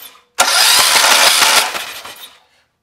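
A Briggs and Stratton small engine is cranked over for a spark test, a loud close burst of rapid pulling and chugging turnover lasting about two seconds before winding down, with no talk.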